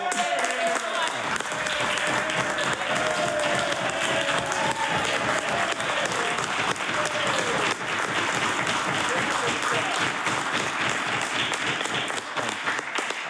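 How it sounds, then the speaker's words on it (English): Members of a provincial House of Assembly applaud in the chamber, the clapping loud and continuous throughout, with a voice speaking faintly underneath early on. "I'm glad the honourable members are practicing their applause"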